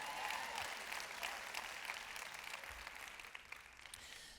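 Applause from a conference audience at a church message fills the room as a dense, continuous patter of many hands, moderately distant and fairly quiet, with faint crowd murmur mixed in.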